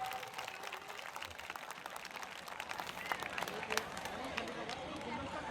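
Audience applause with scattered clapping rises through a Buddhist assembly hall, a dense steady crowd sound carried under a speaker's voice.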